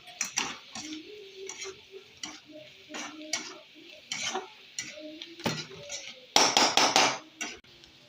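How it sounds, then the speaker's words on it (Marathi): A spoon mixes spices and red chilli powder into eggs in a bowl for a dry bitter gourd dish, giving repeated close clinks and taps against the bowl. A quicker, louder burst of clatter comes near the end, with no talk. "अर्धा चमचा हे मसाले आपण अंड्यामध्ये मिक्स करून घेऊ"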